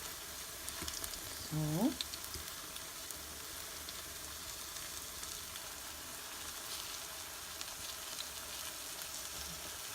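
Banana fritters frying in oil give a steady, soft crackle and sizzle that runs unbroken; a voice briefly speaks near the start, over the frying.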